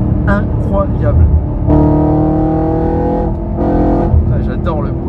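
An Audi RS4 petrol engine revs loudly in two strong bursts, rumbling up close between them while someone speaks over and around the roar.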